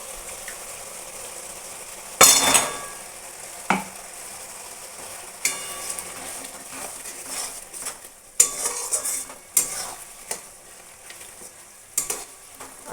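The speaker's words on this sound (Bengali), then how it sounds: "আমি টমেটো পিউরিটা দিয়ে বেশ খানিকক্ষণ কষাতে থাকবো, যতক্ষণ পর্যন্ত না টমেটোর কাঁচা গ্যাসটা চলে যাচ্ছে।" Tomato puree being stirred and fried in a pan for chicken curry, with a soft continuous sizzle broken by scattered scrapes and clinks of a utensil against the pan, moderately close and with no talk.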